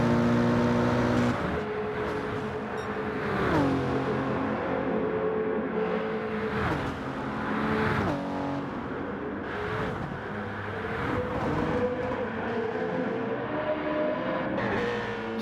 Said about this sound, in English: Morpho and Mitch having a bit of a drag race here.